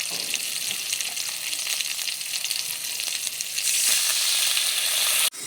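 Washed mung dal frying in white oil in a wok, a loud, continuous close sizzle that swells briefly near the end before a sudden cut.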